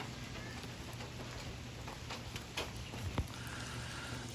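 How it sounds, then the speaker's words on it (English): Steady rain pattering outdoors around a waterfowl aviary, a constant dense hiss of drops with a few louder splashes near the end. "But it's still raining."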